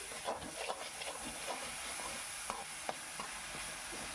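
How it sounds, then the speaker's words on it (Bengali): Cumin, coriander and chili powder are stirred in a pan, with soft intermittent scraping strokes over a steady faint hiss of frying. "এর ভালো করে একটু নাড়ি চাড়িয়ে নিচ্ছি"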